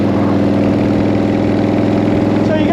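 A 1940 flathead motorcycle engine running steadily, a loud, close, throbbing low idle with a continuous even rhythm and no pauses.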